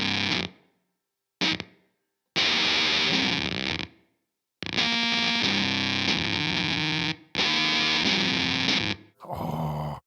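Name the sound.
guitar played through Moire Visceral distortion pedal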